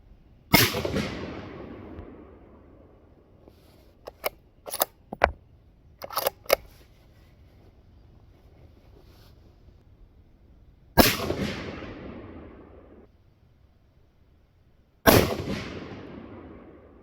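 Three loud, sharp shots from a Ruger American Gen2 rifle in 6.5 Creedmoor, each a sudden crack with a long rolling decay, spaced apart, with a few smaller clicks and clatters of handling between them.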